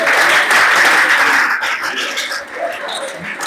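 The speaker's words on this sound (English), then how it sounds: "Clap for yourself." A crowd of schoolchildren at a school anti-drug campaign event claps together, dense and loud at first, then thinning into scattered claps with faint voices underneath.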